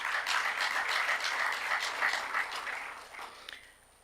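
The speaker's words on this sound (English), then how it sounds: "Please give him a round of applause." Conference audience applauding at a public health meeting, a moderate wash of clapping that holds for a few seconds and then fades out.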